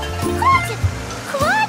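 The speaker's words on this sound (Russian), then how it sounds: "Из шланга течет вода." Cartoon water streams from a hose with a steady gurgling splash while a narrator speaks over it.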